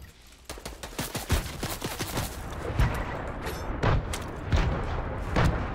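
Grenades explode in a video game in a rapid string of sharp blasts and booms mixed with gunfire. The bursts come close and loud, overlapping over about six seconds.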